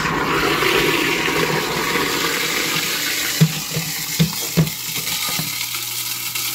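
A slow, sticking garbage disposal grinds steadily under running water, with a few sharp clunks and rattles of ice knocking inside, close and continuous.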